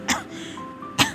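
A man coughs twice, harsh, close bursts about a second apart, with a quiet pause between them, in a domestic drama about a man sick from chewing gutka tobacco.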